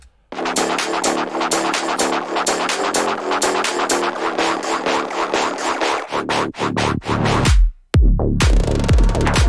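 The first drop of a modern tech house track hits with a steady pounding kick and dense driving beat, loud and continuous, then breaks into sparse hits and a brief gap before slamming back in; no voices.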